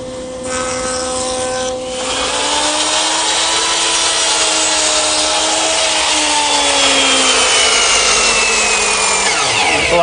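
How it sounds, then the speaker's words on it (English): A handsaw works through wood corners at a miter box set to 45 degrees, a loud rasping stroke-by-stroke rub carrying a faint drifting whine, close and continuous for most of the stretch, with no speech. "I got started here this morning at my miter box, which I've turned to a 45-degree angle so that I could just knock a little bit of the corner of each rail off"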